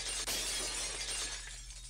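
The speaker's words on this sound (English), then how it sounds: "The unpleasant, piercing sound of shattered glass" Glass shatters in a sharp burst, followed by a tinkling spray of breaking shards that slowly thins out, a close, piercing sound effect from a Higurashi visual novel.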